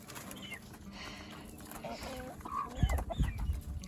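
Backyard chickens cluck softly while pecking at tossed vegetable scraps, with scattered bird calls and low scuffling that grows louder near the end; faint talk sits underneath.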